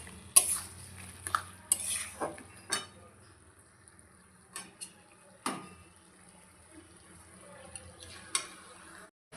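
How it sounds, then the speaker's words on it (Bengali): Curry with coriander leaves being stirred in a pan, a metal spoon scraping and clinking against the pan in scattered taps and scrapes over a faint background sizzle, close by with no talk. "এখন আমি ধনেপাতা দিয়ে একটু ভালো করে নাড়াচাড়া দিয়ে নামিয়ে ফেলবো।"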